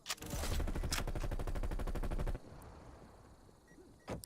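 Rapid automatic gunfire in a video game, a dense fast burst of shots lasting about two seconds, followed by quieter game ambience and a short final pop.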